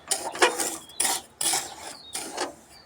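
Black salt stirred in a hot kadai on low flame: four or five rhythmic rasping scrapes of a spatula across the pan, close and fairly loud, with brief pauses between strokes and no voices.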